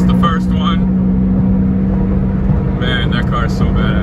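A Porsche Boxster S on the road toward Homestead, heard as a steady, loud low engine and road drone from start to finish, with voices speaking over it.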